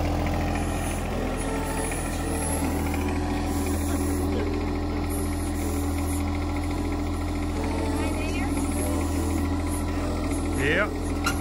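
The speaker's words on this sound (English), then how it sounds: "here comes the fun part of me operating the tractor" A tractor engine runs steadily while being operated outdoors, a constant low drone with insects chirping in the background and a brief louder rise near the end.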